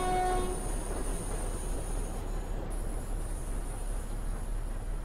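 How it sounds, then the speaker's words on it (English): A short freight train of a few wagons in Euro Truck Simulator 2 rumbles past steadily, a low continuous roar with a brief horn blast at the start. "Oh, it's a freight train."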